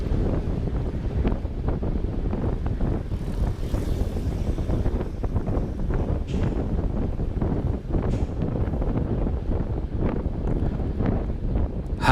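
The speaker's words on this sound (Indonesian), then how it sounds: "jadi mungkin kalian bisa mendengar juga ada suara angin yang cukup bisa kalian dengar, karena angin hari ini tuh cukup kencang" Strong gusty wind buffets the microphone while cycling a road bike on a loop in Surabaya, a continuous loud rumbling roar with no voices.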